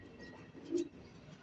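A racing pigeon gives a single soft, low coo, faint and brief, as birds come back in from a 90 km training flight from Lucena.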